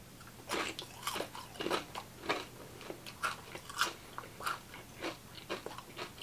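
Flamin' Hot nacho cheese Doritos tortilla chips get bitten and chewed in a steady run of sharp, close crunches, about two per second, with no talking.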